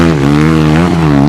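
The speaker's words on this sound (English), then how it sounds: "Oh, dude, dirt bike. Dirt bike!" A dirt bike engine roars past off-road, loud and close. Its steady buzzing drone dips slightly in pitch as it goes by, with no voices over it.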